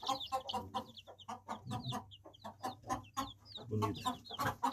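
Free-range caipira chickens cluck repeatedly and busily on a farm, a flock of fowl close by with steady overlapping calls and a low hum underneath.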